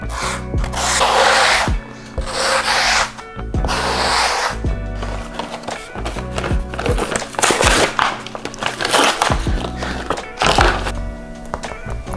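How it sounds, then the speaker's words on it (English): The rubber soles of a pair of shoes are sanded so adhesive will grip, giving loud, close, repeated rasping strokes broken by occasional thumps as the shoe shifts. "Make sure to sand the bottom of these shoes so the adhesive sticks on better."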